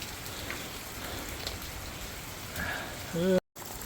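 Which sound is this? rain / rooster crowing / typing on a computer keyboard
rain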